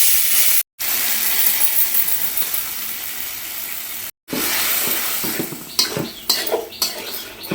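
Ridge gourd mash cooks in a pan, giving a steady sizzling hiss with a few metal clinks and scrapes of a utensil toward the end, close and fairly loud.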